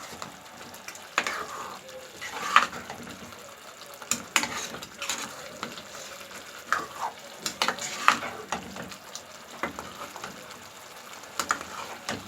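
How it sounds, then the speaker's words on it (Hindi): Chicken sizzles quietly in a karahi with masala, a soft frying hiss broken by frequent clinks and scrapes of a stirring spoon against the pan. "अब थोड़ा सा चिकन के साथ भूनूंगी।"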